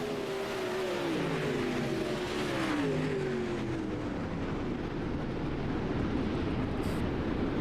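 360 sprint cars racing around the dirt oval at Charlotte, their engines loud and steady as a pack roars past, with pitch sweeps as the cars pass and a constant, dense rumble throughout.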